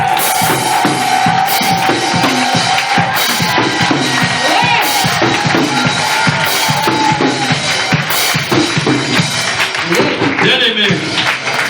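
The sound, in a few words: congregation cheering during prayer service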